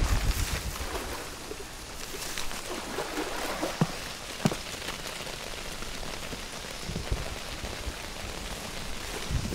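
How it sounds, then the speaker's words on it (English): Steady video game rain pattering on surfaces in Shadow of the Tomb Raider, a dense continuous hiss with occasional louder drops and splashes, no talking. "This would be easier if it wasn't raining."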